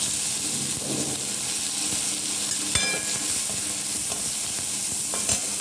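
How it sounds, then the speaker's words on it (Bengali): Bengali five-spice and dried red chillies crackle in hot oil, a dense steady sizzle with a few sharp pops and a light utensil clink, close and loud throughout. "দিয়ে দিলাম এখানে 5 ফোড়ন, আর দিয়ে দিলাম শুকনো লঙ্কা দিয়ে ফোড়ন দিলাম"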